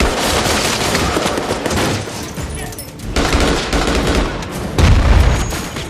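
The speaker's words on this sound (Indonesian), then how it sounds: "Saat baku tembak itu terjadi, Mike sampai terluka parah karena keserempet" Heavy gunfire from a sniper action film shootout, with dense, continuous bursts of shots and booming impacts that stay loud and close without pause.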